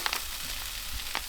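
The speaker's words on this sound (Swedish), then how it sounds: "nu håller jag på och steker lök och vitlök" Onion and garlic frying in a pan give a steady, close sizzle throughout, with a few brighter crackles and spits rising over the constant hiss.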